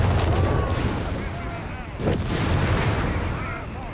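Artillery rounds land in Company of Heroes 3 in a dense rolling barrage of booms and crackling blasts, steady and loud throughout with a sharper impact near the middle.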